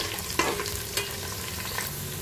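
Whole spices—cloves, black pepper, cumin and bay leaves—frying with ginger in a pan for tahari, a steady low sizzle with a few sharp stirring scrapes near the start and middle, no voices.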